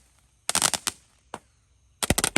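Firecrackers set off on a Ramadan night, loud and close, with a rapid crackling burst, a single sharp bang, and then another dense string of cracks, heard without any talk.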